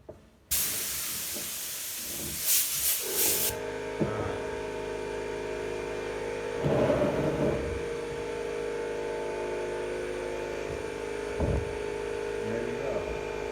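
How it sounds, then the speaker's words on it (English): A loud burst of compressed air blasts across a table for about three seconds, then a steady hum continues with a few faint knocks and shuffles. "We're going to stand it up, blow the table off, and flip it over."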